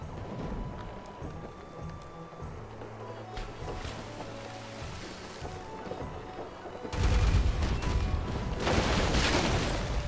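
Booming cannon shots in Pirates Online fire in a steady volley over droning ambient noise, growing louder and denser in the final few seconds.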